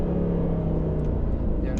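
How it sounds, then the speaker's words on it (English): A Lamborghini V10 engine in an Audi saloon roars steadily from inside the car, a loud, dense rumble holding even with no clear break for a gear change. "every time you change gear or let go of the accelerator, you get a different noise"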